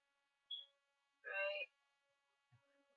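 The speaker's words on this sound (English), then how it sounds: "That's the fire alarm, so it needs batteries." A fire alarm low on batteries gives one short, high chirp in a quiet room, followed moments later by a brief burst of a human voice.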